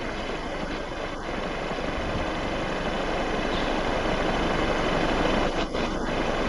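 A small wind generator's propeller spins in the wind, giving a steady whooshing, whirring drone mixed with wind buffeting, continuous and fairly close throughout, with no talking.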